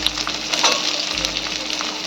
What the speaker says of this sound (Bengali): পেঁয়াজটাও আমি হালকা করে ভেজে নেব।